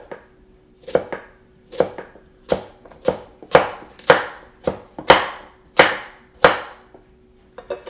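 A HexClad Japanese Damascus steel knife chops food on a board in about a dozen crisp, sharp knocks, each one distinct and close, with uneven gaps between them and no talking.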